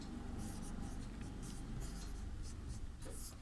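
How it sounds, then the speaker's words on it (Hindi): Scratchy strokes of writing on a classroom board during a Class VII Sanskrit lesson, several short bursts in a steady run with a low background hum and no talk. "यहाँ पर हम लोग लिखेंगे"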